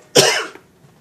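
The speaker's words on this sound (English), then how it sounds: "Trying to make me cough." A single sharp cough, loud and close, with a quick burst of breathy noise that fades within half a second.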